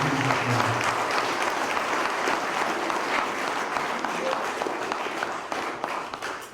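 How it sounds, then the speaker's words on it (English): Loud, sustained applause and cheering from a large crowd of men at a church men's conference, dense and steady throughout, with some voices mixed into the clapping. "why don't you clap for the Lord as loud as you possibly can."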